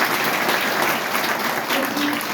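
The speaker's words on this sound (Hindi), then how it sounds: "एक बार जोरदार ताली होनी चाहिए" A crowd at an RCM business gathering in Jharkhand claps loudly and steadily, with dense, continuous applause filling the whole moment.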